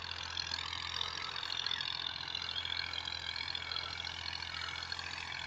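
A Massey Ferguson 240 tractor pulls a 42-blade rotavator through a field in second gear, giving a steady, unbroken engine drone with a low hum beneath a dense wash of noise, no voices.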